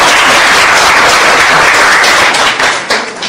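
Loud, dense applause from the audience at the founding convention of the Justice Party's Gangwon provincial chapter, a steady roar of many hands clapping that thins slightly near the end.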